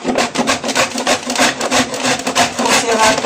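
Coconut grated by hand, a loud, continuous rhythmic rasping scrape with repeated strokes close up and no talk.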